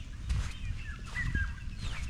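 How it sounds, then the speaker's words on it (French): Birds call on an island, close and fairly loud, with clucking, fowl-like notes and a few higher chirps over a steady outdoor background. "écoutez la nature chanter, écoutez les oiseaux chanter."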